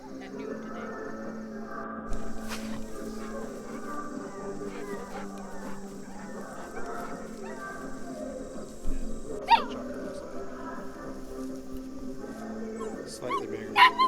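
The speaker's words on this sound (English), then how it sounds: "That's a wire hair pointing griffon." A wirehaired pointing griffon puppy whimpers and yips repeatedly at an outdoor hunting jamboree, thin high cries coming in short bursts over a steady background murmur of people talking.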